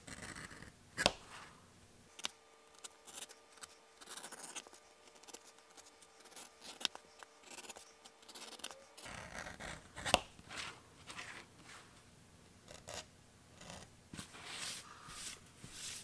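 A leather edge beveler shaving the edge of a leather piece, giving a series of soft scraping, cutting strokes in short bursts, close and fairly quiet, with no talking.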